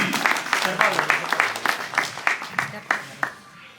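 Applause from a crowd at a village felicitation ceremony honouring a medal-winning daughter, a burst of brisk, close clapping that fades out toward the end.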